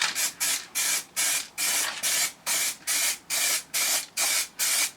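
Rhythmic bursts of aerosol spray paint hiss loudly and close as a new can coats Triumph Scrambler motorcycle heat shields, about ten even pulses with short gaps between.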